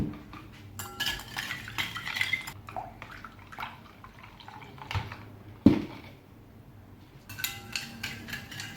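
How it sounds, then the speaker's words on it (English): Tempura batter of flour, egg and icy cold water being mixed in a bowl, with close clinks and scrapes of a utensil against the bowl and occasional sharp knocks, no talking. "I'm gonna mix it very well."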